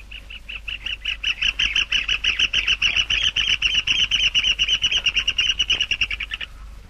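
Rufous hornero (João-de-barro) calling: a loud, rapid run of sharp chirping notes that accelerates into a dense trill for several seconds before stopping abruptly, close and alone over low background hum.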